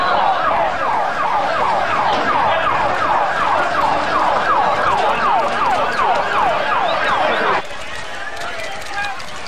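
An ambulance siren wails in a fast, repeating up-and-down pattern, loud and close amid street noise, carrying Diego Maradona through a frenzied crowd to a Buenos Aires clinic, then cutting off near the end with crowd noise remaining.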